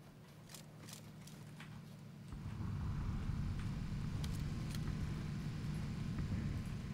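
A car in the PUBG battle royale game drives along a road, its low engine rumble rising in loudness partway through and holding steady, with faint wind noise and no talk.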